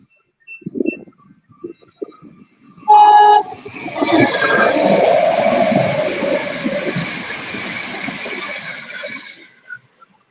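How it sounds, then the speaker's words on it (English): A new high-tech passenger train's horn blasts loudly, then the train roars by for several seconds before fading into quiet. "That was a nice toot from the train driver."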